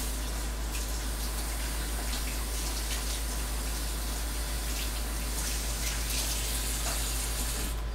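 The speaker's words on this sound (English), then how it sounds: "I need to rinse my hands again." Tap water runs steadily into a sink while hands are rinsed during Thanksgiving dinner cooking, a constant close hiss and splash with no voices.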